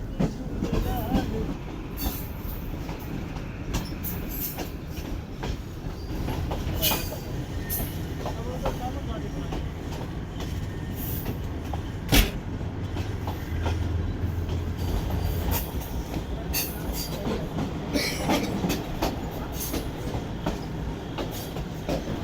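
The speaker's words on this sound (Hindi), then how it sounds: "आप पूरा एज पे चलती हुई आई है हमारी ट्रेन और अभी भी एज पे चल रही है" A safari train runs along a high embankment edge above a road and river, with steady rumbling wheels and rhythmic clatter from the carriages, loud and continuous throughout.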